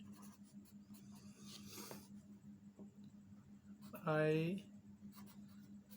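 A marker or chalk scratches and squeaks across a board in short strokes, faint beneath someone speaking in Hindi, with one louder squeaking stroke near the end.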